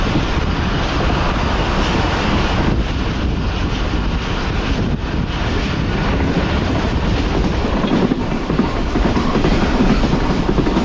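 A train passes close by, a loud, continuous rumble with clattering wheels and wind buffeting the microphone for the whole stretch.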